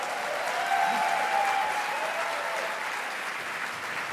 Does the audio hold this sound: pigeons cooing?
no